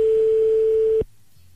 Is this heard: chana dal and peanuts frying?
no